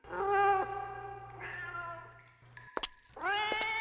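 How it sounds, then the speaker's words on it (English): Cat meows in the video game Mortyr, three clear drawn-out meows with a brief click between the last two, fairly quiet and alone. "This game has random cat sounds"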